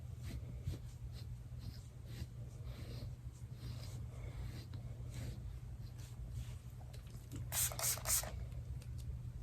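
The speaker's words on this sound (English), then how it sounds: "Spray." A grooming spray bottle hisses in a few quick bursts over an Australian Shepherd's coat near the end, faint and close against a quiet room hum.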